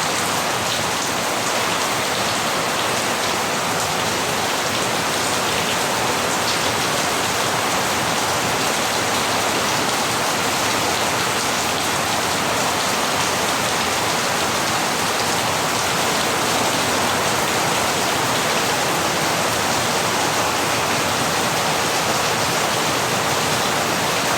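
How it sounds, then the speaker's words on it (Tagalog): Heavy rain from Typhoon Kristine in Camarines Norte pours down as a dense, unbroken hiss and patter, loud and constant throughout with no voices. "Lakas na ulan."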